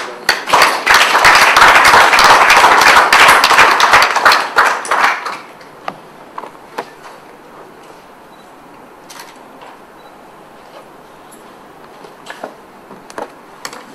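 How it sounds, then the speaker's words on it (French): An audience in Benin applauds with dense clapping for about five seconds, then it fades out into a quiet room with a few scattered claps and taps. "On peut applaudir s'il vous plaît."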